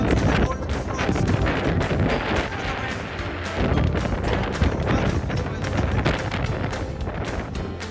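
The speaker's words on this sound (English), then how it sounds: "Enjoying the wind?" Strong wind buffets the microphone on the exposed Tongariro Alpine Crossing hiking trail in New Zealand, a loud continuous roar with gusty surges throughout.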